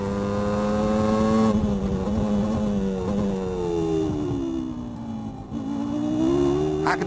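Formula One cars of 1994 accelerate hard at a race start, a loud sustained roar of high-revving engines with pitch rising and falling as gears change, one car dominant up close with others beneath, no talk.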